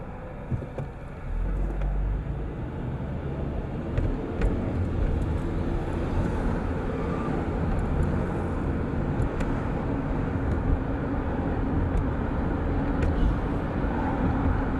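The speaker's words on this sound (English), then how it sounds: "You can see all the cars down there. It's just like non-stop." Busy road traffic near Findlay, with cars passing non-stop on the road below, forms a continuous low rumble of engines and tires. It stays steady and moderately loud throughout, with no speech.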